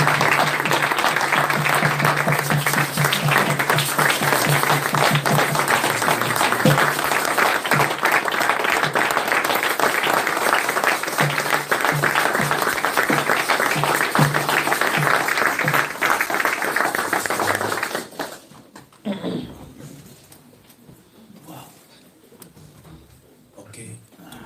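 A church congregation breaks into sustained, dense applause and cheering for the Lord, loud and continuous for about eighteen seconds before dropping away to a quieter murmur.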